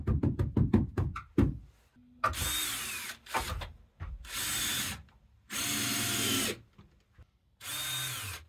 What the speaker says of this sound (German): ich schraube da immer so ein bisschen intervallartig